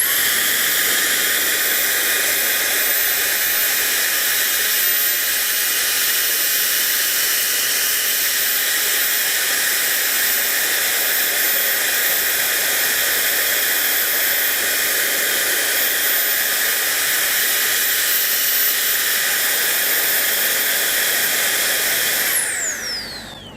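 Milwaukee cordless leaf blower running at full power, a loud, steady airy roar and hiss held close for over twenty seconds, cutting off at the end, with no talking.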